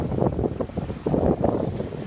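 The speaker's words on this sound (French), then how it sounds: "On a retrouvé le vent." Steady wind at sea buffets a sailboat crossing the Pacific, a continuous broadband rush with gusting swells and no voices.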